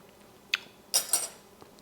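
A metal spoon clinks against a pot of meat sauce made from marinara and beef: a single sharp tap, then a pair of quick clinks close together, fairly faint, with no talking.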